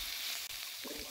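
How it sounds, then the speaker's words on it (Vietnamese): Oil sizzles and crackles steadily in a Vietnamese banh xeo frying pan as food starts stir-frying, a close, continuous frying hiss with a slight rise toward the end. "Mình bắt chảo lên mình chuẩn bị xào ha."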